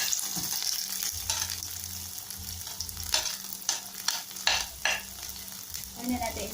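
Onion sizzles steadily in hot oil in a pan, and repeated scraping stirs break through near the end. No one speaks.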